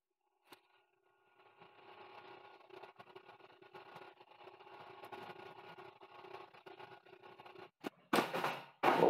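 A 3D printer's extruder stepper motor feeds 100 millimeters of filament during an e-steps calibration, giving a steady, fairly quiet mechanical whir and patter with no talk.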